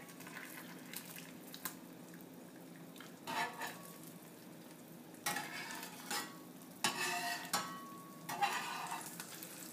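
Eggs frying in butter in a seasoned cast iron skillet, with steady soft sizzling broken by several bursts of scraping and stirring from a utensil against the pan, close up and with no talk.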